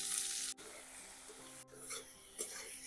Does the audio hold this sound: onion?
yes